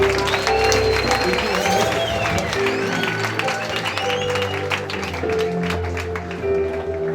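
A church congregation claps in praise, with high, warbling ululation cries rising above a busy layer of hand claps and voices, sustained and lively throughout.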